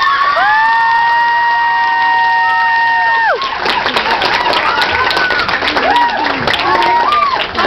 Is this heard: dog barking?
no